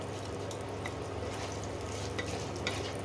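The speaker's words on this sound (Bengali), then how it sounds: "এই গোটা মৌরি আমি ফোড়ন দিলাম" Whole fennel seeds hit hot oil in a pan for tempering, a steady close sizzle with faint crackles and a low hum beneath, no talking.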